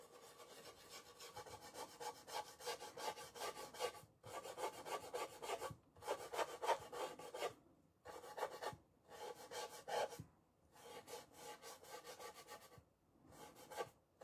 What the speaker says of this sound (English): It sounds like I'm scrubbing really hard, but I'm not. It's just on that board, it sounds like that.